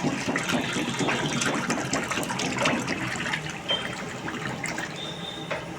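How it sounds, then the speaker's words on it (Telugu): Ten litres of cooking oil pour into a large kadai for frying kauwa jamun, a steady close gushing and splashing stream of liquid that runs throughout without pause. "10 లీటర్ ఆయిల్ పోసుకున్నాం"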